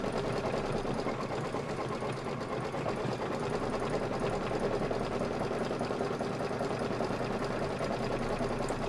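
A sewing machine stitches a number onto fabric for a sew-along project, running in a steady, continuous fast-ticking whir at close range with no pauses.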